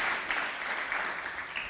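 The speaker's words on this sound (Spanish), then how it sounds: "ahí va el aplauso" A church congregation applauding, a brief steady patter of many hands clapping at moderate distance, fairly soft.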